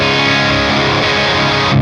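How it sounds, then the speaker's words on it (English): An electric guitar plays a crunchy, distorted tone through a Quad Cortex modelling the second channel of a Diezel VH4 amp. Brief sustained chords ring out loud and thick, with no talking. "Channel 2 for some nice crunchy tones."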